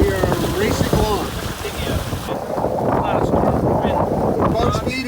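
Strong wind of about 19 knots rushes steadily over a sailboat under sail with the engine off, heading to the Abacos, Bahamas, in heavy weather, mixed with water wash and microphone buffeting.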